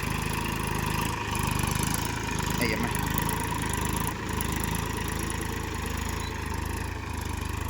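A Massey Ferguson tractor hauls a load with a continuous mid-pitched engine rumble that stays steady close by, with someone talking over it.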